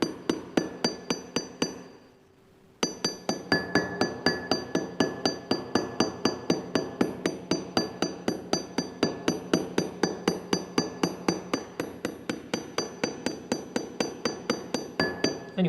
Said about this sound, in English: You just peen both the ends over.